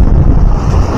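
Sea waves and strong wind on a Mumbai shore during fishing in knee-deep water: a steady, loud, close rush of surf and wind buffeting the microphone, with no voices.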